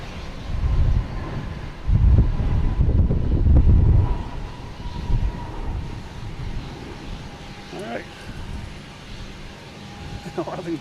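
Gusty wind buffets the microphone beside an airport runway at Boston Logan, loud rumbling bursts rising and easing over several seconds, with faint distant aircraft and traffic noise underneath.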